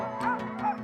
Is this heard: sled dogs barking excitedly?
yes